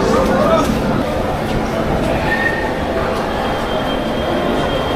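Inside Sealdah railway station, a constant low rumble of trains blends with crowd babble and nearby voices, steady and fairly loud throughout.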